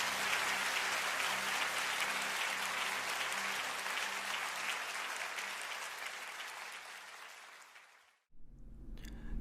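A church congregation applauds at an Easter Sunday service, a dense, steady wash of clapping that fades out near the end before a brief low sound.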